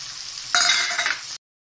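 Tomatoes land in a pan with fried onion and peas and set off a sudden, loud sizzle that holds for under a second before cutting off.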